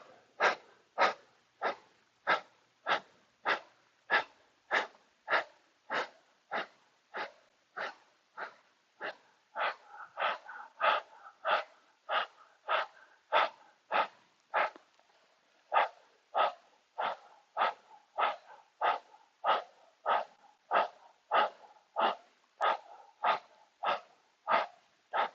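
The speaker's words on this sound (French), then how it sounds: "Continue ta respiration de feu, mais par la bouche." Rapid breath of fire through the mouth during a kundalini yoga practice, a close, sharp rhythmic series of about thirty forceful puffs at an even pace, alone with no talk.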